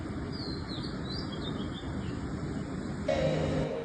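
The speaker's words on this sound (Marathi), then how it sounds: "समुद्र इतका शांत आहे आणि पक्ष्यांचा आवाज तुम्ही ऐकू शकता या व्हिडिओमध्ये" Birds chirp and twitter in high, quick calls by the sea over a steady wash of background noise, fairly close and continuous.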